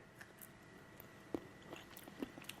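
Someone bites into and chews salty fermented lemon eaten straight from the jar, with a few soft, wet squishing bites spaced apart and faint, close sounds over a quiet background.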